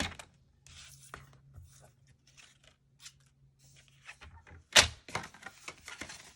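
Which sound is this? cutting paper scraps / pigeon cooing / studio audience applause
cutting paper scraps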